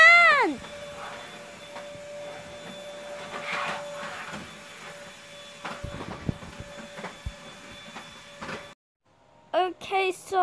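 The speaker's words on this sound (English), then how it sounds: "so sorry for the vacuum" A household vacuum cleaner runs steadily for most of the clip as a continuous mid-level drone, then cuts off abruptly near the end, followed by a brief burst of other sound.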